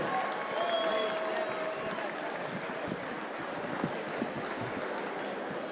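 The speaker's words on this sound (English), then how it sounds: "let's get a big Paramount round of applause for these two warriors" A boxing crowd at the Paramount on Long Island gives a big round of applause for two fighters after a four-round bout, a thick, sustained roar of clapping and cheering that stays loud and steady from start to finish.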